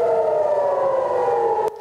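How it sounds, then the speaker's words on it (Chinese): An Israeli air raid siren wails in a steady, loud tone that holds for nearly two seconds before cutting off. "以色列的空袭警报也再度响起。"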